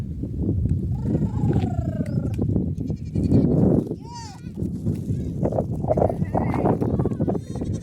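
Goats bleat several times, some close and some farther off, near a check dam, while people talk over a busy outdoor background.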